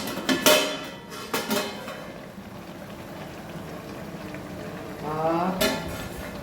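Chicken is stirred in a cooking pot, with several clanking scrapes of utensil on metal near the start and again near the end over a low bubbling background.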